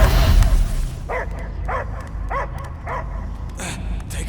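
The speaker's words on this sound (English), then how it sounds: "I hear only barking." A dog in Marvel's Guardians of the Galaxy barks several times in a steady series of short, fairly close barks over a low rumbling game soundscape.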